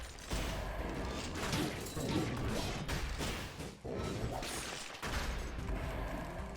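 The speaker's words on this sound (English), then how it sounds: "let's plan on fighting the giant with this heavy crossbow" A heavy crossbow firing bolts in the action game Dead Cells, dense repeated mechanical thumps and crashing impacts in a busy, continuous stream with brief gaps.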